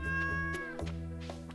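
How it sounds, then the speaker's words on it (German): A cat meows in the background, a drawn-out tonal cry followed by a few short, fainter mews, sounding quiet and a little distant. "Und da hinten miaut die Katze."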